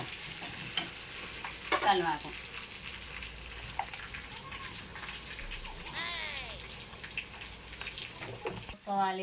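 Cumin seeds and garlic frying in hot oil for pappu charu, a continuous sizzle with spoon stirring and scraping in the pan, while voices talk over the cooking.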